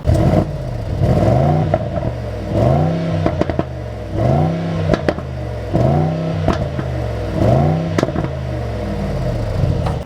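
The V8 of a 2026 Mercedes-AMG GLE 63 S revs repeatedly through its exhaust in a steady cycle of roughly five rising bursts, loud and close, with a rumbling idle between pulses.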